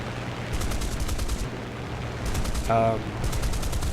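Spitfire Mk VC 20mm cannons firing in War Thunder, several short rattling bursts separated by brief pauses, loud and close, with a brief tonal engine or effect sound in the middle.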